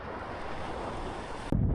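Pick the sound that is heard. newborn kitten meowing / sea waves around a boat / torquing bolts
sea waves around a boat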